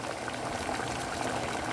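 A pan of water at a rolling boil with butter sitting on top, a steady close bubbling wash that holds evenly throughout, with no voices.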